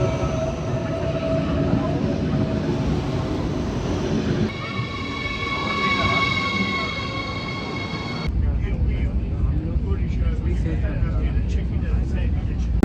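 A crowded train ride in Cologne: a loud, steady rumble of rail wheels and carriage noise, with tonal whines from the train's motors in the middle and dense crowd chatter throughout.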